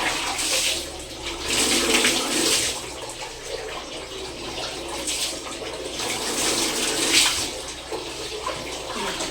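Water splashing and pouring steadily while someone bathes, a continuous close rushing sound swelling and easing with movement, no talking.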